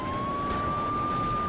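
A police siren in the video game GTA 3 wails steadily through the whole moment, a sustained electronic tone over a rumbling, noisy engine-like background.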